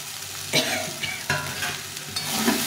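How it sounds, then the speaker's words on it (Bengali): Poppy seed paste frying in a pan with a soft continuous sizzle, broken by three or four sharp stirring scrapes of a spoon against the pan, close up with no voices. "ভালো করে ভেজে নিতে হবে"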